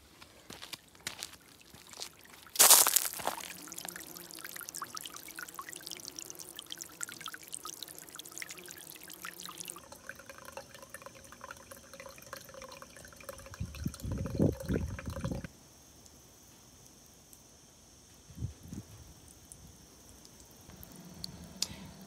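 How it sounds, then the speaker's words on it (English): Water pouring and splashing through a small solar-powered fountain made from an old sink, a steady trickle from the faucet with a louder gush early on, then quieter dribbles and bubbling from the pump, with no talking. "So the water gets sucked in from here, pumped out underneath, and comes up through the faucet and down again, and around it goes."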